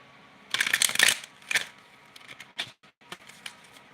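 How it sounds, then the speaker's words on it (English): Tarot cards are shuffled by hand in quick riffling bursts, close and crisp, with louder flurries early on that thin into scattered short snaps and pauses. "I'm shuffling now."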